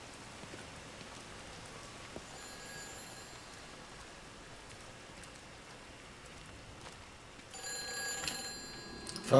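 An old telephone rings in the game Everybody's Gone To The Rapture: two bursts of bright, trilling rings over steady rain-like ambience, the second louder and longer.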